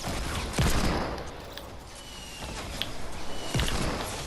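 Heavy pistol shots from a Desert Eagle in a video game, two loud cracks with a stretch of gunfire-like clatter between them, set against a dense, noisy game background, with no talking.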